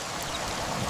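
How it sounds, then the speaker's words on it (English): Heavy rain pours down steadily as a dense, even hiss of water with no pauses, close and fairly loud. "keeping them dry as the rain poured down"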